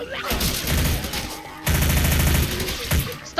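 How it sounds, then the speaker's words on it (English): Gunfire in Left 4 Dead 2: loud, rapid automatic bursts in two long volleys separated by a brief pause, with dense rattling shots and faint voices underneath. "who keeps shooting me?"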